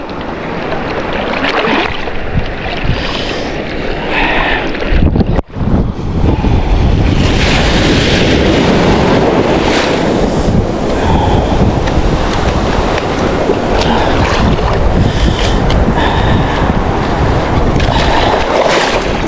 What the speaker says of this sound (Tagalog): Grabing alon nga lang.